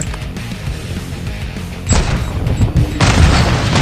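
Gunfire and explosions in Call of Duty Modern Warfare II, a low rumbling booming battle bed with a rapid burst of thudding shots and crashing impacts that grow louder in the second half, dense and close, no talk.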